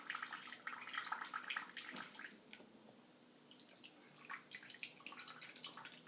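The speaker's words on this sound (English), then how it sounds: "this experiment we can see that the velocity of the water leaving the can is proportional to the height" Water streams and splashes out of a can during a physics experiment, a steady close trickle that briefly thins in the middle and then picks up again, with no voices over it.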